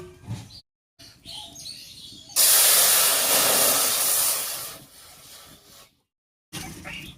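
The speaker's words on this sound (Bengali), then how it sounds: "এবার কড়াইয়ে জল দেব" Water poured into a hot wok on a clay stove bursts into a loud, steady hiss that lasts a few seconds and then fades. Brief speech comes before and after it.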